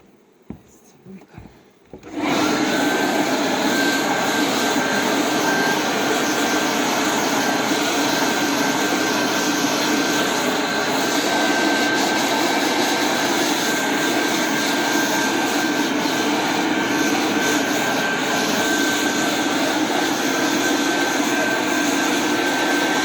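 Blower driving bees out of honey supers during a final honey harvest, starting after a few quiet knocks and then roaring steadily with a loud, constant whoosh and hum until the end.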